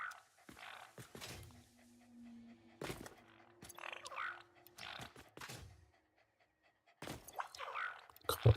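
Doggo creatures in the Satisfactory video game pant and snuffle in quick breathy bursts, soft and close, separated by pauses, with game thumps and a voice now and then.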